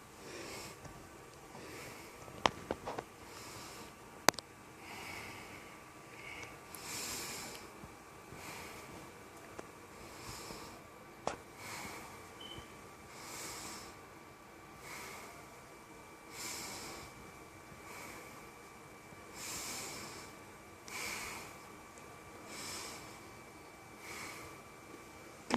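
A patient takes slow, deep breaths during a lung auscultation in a nursing respiratory assessment, repeated soft breathy inhales and exhales in a steady rhythm over quiet room noise.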